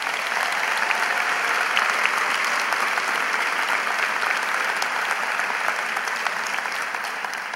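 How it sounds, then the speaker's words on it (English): A large crowd at a high school graduation ceremony applauds in a continuous, even roar of many hands that holds steady for several seconds with no voices above it. "How about a big round of applause for those people?"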